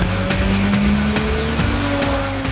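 Ariel Atom sports car with a 300 hp engine accelerates hard, its loud engine note climbing through rising pitch sweeps with brief dips at gear changes, close and continuous with no talking.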